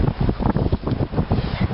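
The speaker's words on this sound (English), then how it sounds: "Oh, it's windy." Gusty wind buffets the microphone outdoors, a dense, rumbling roar that swells and dips in quick pulses for under two seconds with no voices over it.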